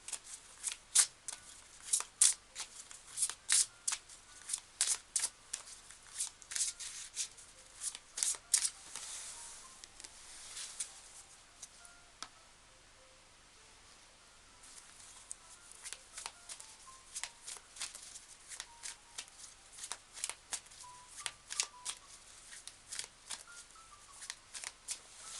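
A deck of tarot cards shuffled by hand in quick riffling bursts, crisp papery flicks coming in clusters with a short pause midway, close and fairly quiet with no talk.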